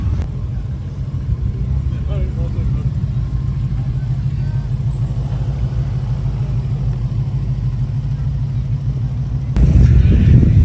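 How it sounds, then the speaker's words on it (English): Classic cars drive out of a car show at Himley Hall, a close, steady low engine rumble that swells louder at the end as a car pulls past. "stand by the exit and just listen to some of these cars"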